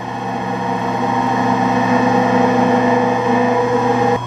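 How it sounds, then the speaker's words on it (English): An electric motor on an Allis-Chalmers rotary phase converter hums steadily with a loud, even electrical drone, then cuts off abruptly at the very end. "I'm going to turn off the motor."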